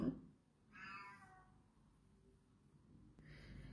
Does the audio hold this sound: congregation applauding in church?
no